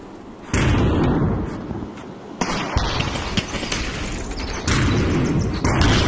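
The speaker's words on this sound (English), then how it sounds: "They're just spamming grenades right now." Repeated grenade blasts in the VR shooter Aim XR, loud booming bursts near 0.5, 2.4 and 4.7 seconds with dense rumbling gunfire and debris noise between them.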